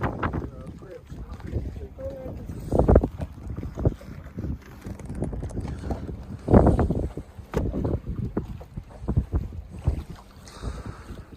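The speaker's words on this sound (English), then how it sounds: "As you see, it's pretty windy. You can probably hear it too." Strong gusty wind buffets a fishing boat on open water, loud irregular rumbling blasts rising and falling over several seconds, with a person talking underneath.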